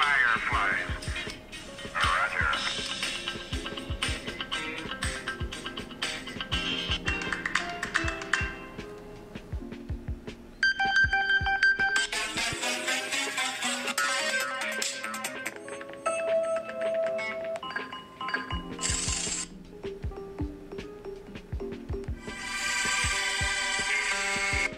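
Electronic alarm ringtones from a space-themed alarm app, a run of melodic synth tones and chimes that change several times, playing continuously and fairly loud with no talk over them.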